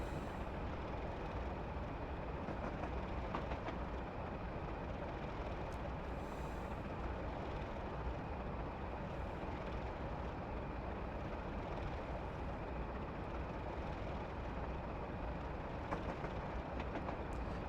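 A train runs steadily through Dent railway station on the Settle to Carlisle line, a continuous loud rumble with faint rail clatter and no pauses.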